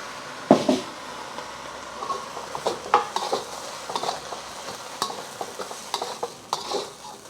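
SPAM egg fried rice with soy sauce is stir-fried in a pan under a low sizzle, with scattered spatula scrapes and knocks at an irregular pace. No one speaks.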